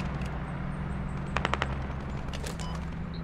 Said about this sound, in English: Full auto, machine gun.